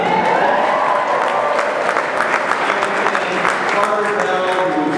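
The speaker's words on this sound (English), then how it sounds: "It's okay to clap." Steady, loud applause from a large audience at a political campaign rally in Iowa City, continuous throughout with a bit of crowd noise and voices mixed in.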